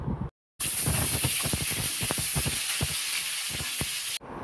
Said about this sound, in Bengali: এখানে কড়াইতে তেল গরম করে আলুগুলো হালকা ভেজে নিব।